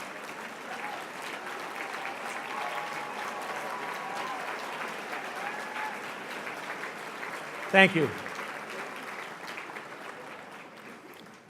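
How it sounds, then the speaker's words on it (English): Steady audience applause fills a hall after a speech, a dense sustained patter of many hands at moderate volume, with a short burst of louder clapping near the end and a brief spoken thanks. "Thank you very much for that warm applause for them."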